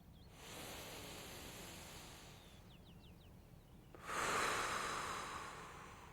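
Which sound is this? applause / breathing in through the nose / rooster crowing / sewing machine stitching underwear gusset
breathing in through the nose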